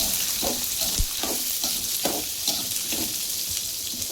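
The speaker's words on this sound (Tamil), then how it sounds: "இதை நல்லா ஸ்மெல் போகிற அளவுக்கு வதக்கி விட்டுடலாம்" Small shallots sauté in hot oil in a pan for fish curry, giving a steady, close sizzle broken by periodic soft stirring scrapes.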